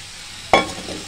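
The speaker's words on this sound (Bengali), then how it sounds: "সুন্দর মতো কষানো হয়ে গেলে এখানে টমেটোগুলো দিয়ে দিচ্ছি।" Chopped tomatoes drop into a hot pan and sizzle loudly on contact, a sudden hiss that then settles into steady frying, close up.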